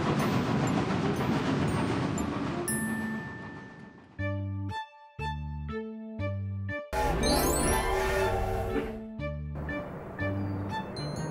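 A cartoon train rolls along its rails, heard as a chugging rumble broken into rhythmic bursts, with music woven through.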